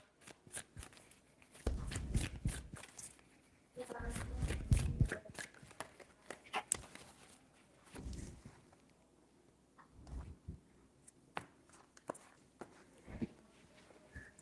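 Tarot cards being shuffled for a Valentine's reading, soft riffling and flicking bursts in a few separate rounds, fairly quiet and close, with light handling noises between them.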